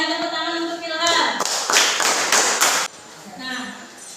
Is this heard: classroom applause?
yes